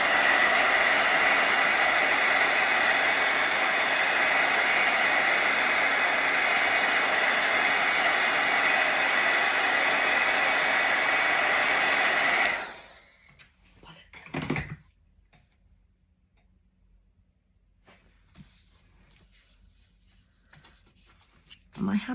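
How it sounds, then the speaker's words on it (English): A heat tool dries paint on a craft project with a loud, steady whooshing roar for about twelve seconds, then cuts off, leaving a few quiet handling knocks. "I might just dry this with my heat tool because I don't want to dab it"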